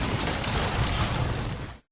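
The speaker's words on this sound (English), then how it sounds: "The explosion just a few feet away." A film explosion going off just a few feet away: a loud, dense burst of roaring, crackling noise sustained for nearly two seconds before cutting off abruptly.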